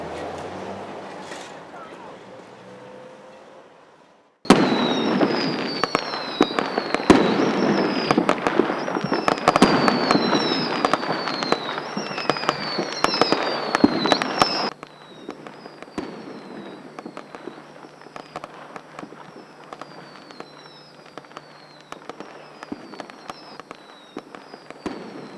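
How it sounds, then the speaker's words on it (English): Fireworks burst in rapid crackling volleys with whistling rockets, loud and dense for about ten seconds, then thinner scattered pops and whistles continue, heard from not far away around a November 5th celebration. "Despite various fireworks celebrations, both public and private, all taking place not far away"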